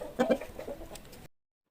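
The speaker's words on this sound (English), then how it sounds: "H for hen." A hen gives a short run of close, clear clucks, a couple of stronger notes followed by softer ones before the sound cuts off.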